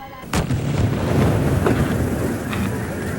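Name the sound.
firecracker explosion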